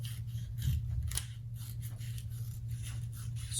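Scissors snipping strips of paper for a koinobori carp craft, steady close crisp cutting and rustling throughout with no talking.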